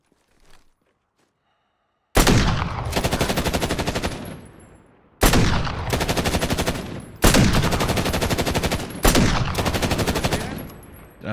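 Automatic gunfire in a video game rips out in four loud, sustained bursts separated by brief pauses, following a near-silent opening.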